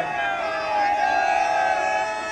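Nihang Sikhs at Hola Mohalla raise a loud, sustained jaikara war cry together, a dense crowd of voices shouting and cheering close by throughout.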